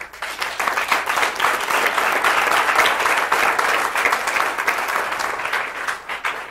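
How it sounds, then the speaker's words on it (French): An audience bursts into sustained applause, a dense wash of clapping that swells quickly and holds steady for several seconds before easing. "Juste ça, ça mérite déjà un applaudissement"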